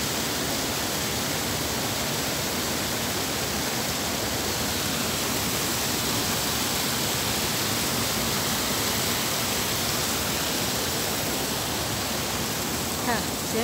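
Water rushes over a village overflow weir in an irrigation channel, a loud, steady broadband roar that holds unchanged throughout with no break.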